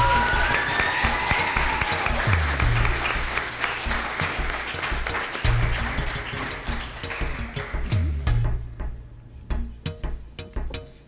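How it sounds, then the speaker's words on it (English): Sustained applause from a large audience at a justice academy graduation ceremony in 2015, steady dense clapping that thins into scattered claps toward the end. "So we give her a big round of applause."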